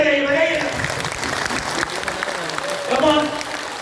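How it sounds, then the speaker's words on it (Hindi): Audience at an RCM meeting in Rewa, Madhya Pradesh, clapping hands loudly and steadily throughout, with voices and chatter mixed in over the dense clapping. "ताली बजाइए बजाइए"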